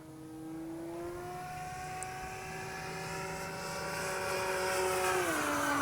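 A Skynetic XCub RC airplane dives in the wind, its electric motor whine rising and sliding in pitch as it sweeps past, growing louder toward the end, alone without voices.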